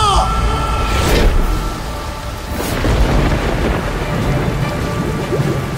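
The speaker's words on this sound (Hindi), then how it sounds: "अचानक जोर की बिजली कड़की" A loud thunder crack splits over steady heavy rain, with a second sharp crack a moment later before the downpour hisses on evenly.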